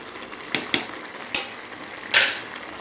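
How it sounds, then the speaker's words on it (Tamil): Squid (kanava) gravy being stirred in a pot, a few separate scraping and clinking strokes of a spoon against the pot over a soft simmering sizzle, close and fairly quiet, with no talk. "அடிக்கடி எடுத்து நல்லா கிளறி விடணும், ஏன்னா அடி பிடிச்சிக்கும்"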